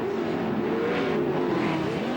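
A CORR off-road racing truck at Las Vegas in 2007 screams at full throttle, its loud engine pitch wavering and climbing steadily as it drives through a corner.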